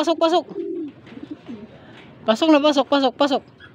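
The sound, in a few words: racing pigeons arriving and cooing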